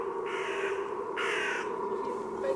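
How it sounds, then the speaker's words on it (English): Two crows caw outdoors, each giving a short burst of harsh, raspy calls about a second apart, moderately distant and standing clearly above a steady background hum. "Do you like the birds?"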